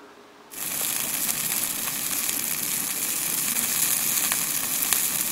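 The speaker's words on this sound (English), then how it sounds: "cooking some dinner on the old pan" Dinner sizzles in a pan at a night-time carp fishing camp, the frying starting abruptly after a brief hush and then hissing on steadily, close and even.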